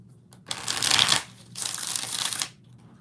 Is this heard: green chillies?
no